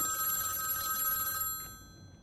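A telephone rings with a continuous high electronic trill, moderately loud, over a rough background noise, and the ring cuts off after about one and a half seconds.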